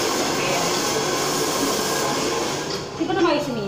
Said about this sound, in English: Ang blower na.